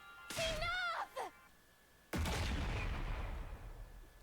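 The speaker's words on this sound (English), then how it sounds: "Another explosion." An explosion in The Hundred Line: Last Defense Academy bursts out sharply after a brief synthetic whine, then rumbles and slowly decays into a noisy tail, moderately loud against a quiet game background.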